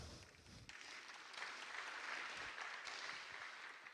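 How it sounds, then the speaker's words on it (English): An audience at a biotech and healthtech panel session claps to welcome the panelists, a dense, sustained wash of applause from a crowd in a hall, steady throughout without speech. "So I would like to have you guys applaud and welcome them."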